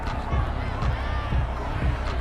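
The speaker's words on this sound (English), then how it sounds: "This home crowd, they're happy with that call." Home crowd at a football video game stadium cheering a referee's call, a steady dense roar of many voices with rhythmic swells, loud and sustained throughout.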